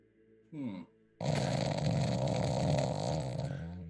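Snoring from a man, a short rasping inhale followed by a long, loud, gravelly throaty rumble, close and alone.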